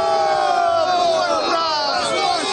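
A large crowd at a Romanian political rally roars continuously and loudly, a dense wall of shouting and booing voices that swells and holds throughout without a break.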